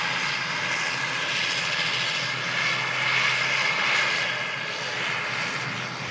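A wide-body Emirates Boeing 777 freighter arrives with a steady, broad jet roar that swells gently and holds loud throughout, no voices over it.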